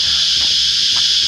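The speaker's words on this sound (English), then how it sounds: "So yeah, the cicadas have followed us." Cicadas drone in a loud, steady high buzz along a bush walking track near Berowra Waters outside Sydney, filling the whole stretch without a break, with faint footsteps and rustles underneath.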